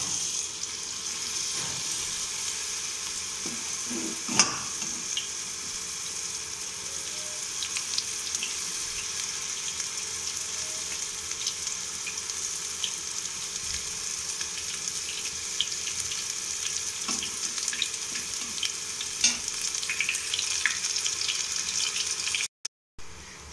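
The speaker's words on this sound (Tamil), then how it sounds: "நம்ம சோயா வந்து இதில் பொரிச்சிடலாம் போட்டு." Soya chunks deep-fry in hot oil, giving a steady, dense hiss and crackle that runs the whole time, with faint bubbling and no voices.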